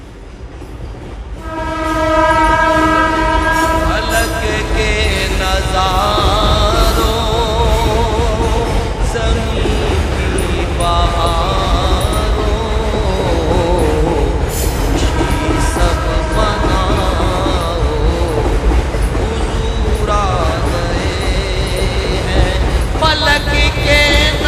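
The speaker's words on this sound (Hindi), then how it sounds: "आप देख सकते हैं कि ये ट्रेन जा रही है" A train rumbles loudly across the track overhead near a dargah and graveyard. The clickety-clack starts a couple of seconds in and stays heavy and continuous, with repeated horn blasts sounding above it.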